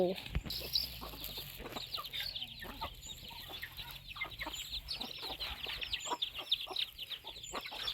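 Chickens and ducks in a rural dry-season field at evening feeding time, with soft clucks and chirps scattered under continuous faint chatter and rustling, fairly distant and quiet with people talking nearby.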